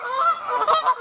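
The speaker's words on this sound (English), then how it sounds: "Just type in Canada Goose SFX and the sound effect comes up" A Canada goose honking as a sound effect, a few loud, close, nasal honks in quick succession over about a second, with nothing else heard.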